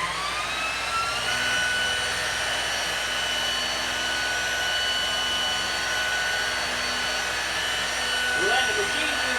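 A machine polisher hums steadily as it buffs wax onto a car, a close continuous whine with a high tonal edge that holds an even level throughout.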